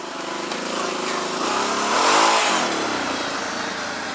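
A quad bike four-wheeler engine runs close by, its motor note rising in a rev and then easing back, loud and steady throughout.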